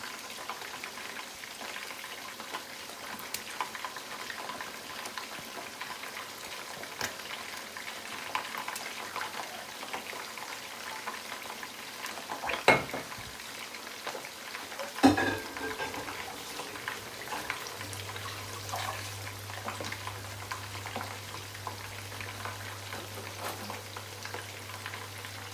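Onions fry gently in vegetable oil in a pot over low heat, a soft continuous sizzle with occasional louder stirring clatters.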